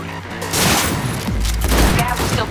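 Dense gunfire in the video game Cyberpunk 2077, a loud continuous rattle of shots with heavy low booms, close and unbroken for a couple of seconds without talk.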